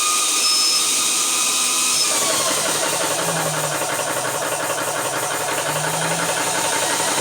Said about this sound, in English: Start your pump.